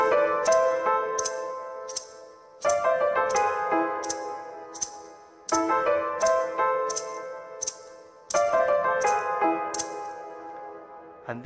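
Melody of a Cuban song played squarely on the beat without anticipation, as bright plucked or keyboard notes over a repeating chordal accompaniment, with evenly spaced phrases in a steady groove.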